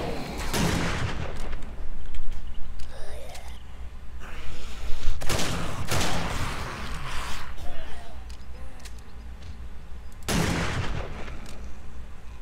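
Repeated bursts of gunfire in the 7 Days to Die video game, several loud close shots and rapid volleys spread across the stretch, with a voice talking between them.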